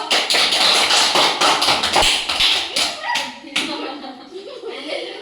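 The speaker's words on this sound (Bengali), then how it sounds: "সবাই হাততালি দাও" A group of children claps together at an independence day quiz gathering, a dense burst of hand claps that thins out into scattered claps, with voices and laughter in the room.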